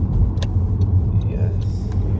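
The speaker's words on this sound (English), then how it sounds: "I'm just driving along this road." A SEAT Ibiza, just repaired, cruises along a road, heard from inside as a steady, close low engine and road rumble that stays even throughout, with a few faint higher sounds on top.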